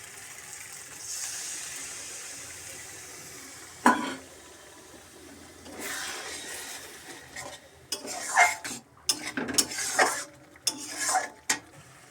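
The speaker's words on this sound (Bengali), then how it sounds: "এবার আমি মশলা করা জলটা দিয়ে দিচ্ছি" Spiced water is poured into a pan of cooking mustard-based food and stirred, with a soft hiss, then clattering spatula scrapes and clinks against the pan growing busier toward the end, close by.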